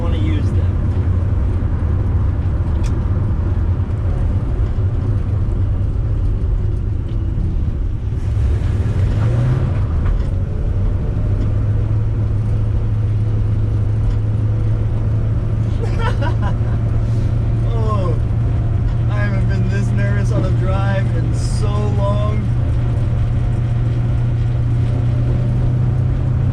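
Dodge Dart car driving in third gear: a steady low engine drone with road rumble throughout, loud and continuous, briefly rising in pitch once, with people talking over it.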